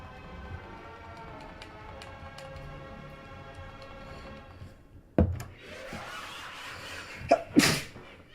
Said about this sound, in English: Ah, jeez, I'm sneezing.